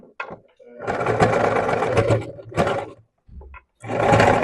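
A sewing machine stitching fabric with a 1 cm seam allowance, loud whirring bursts that start and stop, with brief pauses between runs.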